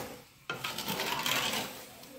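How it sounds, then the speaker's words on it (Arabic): A spoon stirs sugar into water in a pot, making a sudden scraping start followed by continuous gritty swirling and rubbing against the metal, close and fairly quiet, with no voices. "دونك هنايا راح نخلط هكا برك باش يدخل السكر هذاك باش يتخلط بيان مع الماء"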